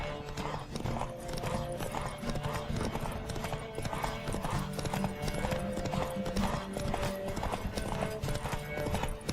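A horse gallops at race speed in The Witcher 3, its rapid, rhythmic hoofbeats pounding steadily and close throughout, with a brief whinny and faint voices in the background.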